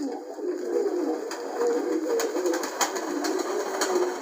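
Pigeons coo repeatedly nearby in soft, throaty calls, layered over a steady background hiss with faint clicks and taps.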